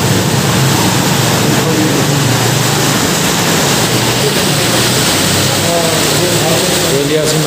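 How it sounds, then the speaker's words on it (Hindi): Spring water flowing steadily at the Ilyasi mosque in Abbottabad, a loud, close, continuous rushing splash with no break. "इलियासी मस्जिद में चश्मे का पानी,"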